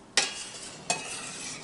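Kumquats cooking down with water in a pan over a high flame, stirred twice with a utensil; each stir gives a sharp scrape, with a steady bubbling sizzle between strokes.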